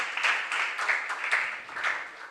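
Applause for a team at a junior science and maths quiz competition, many hands clapping in an even, continuous patter with gentle swells, moderately loud and without speech over it.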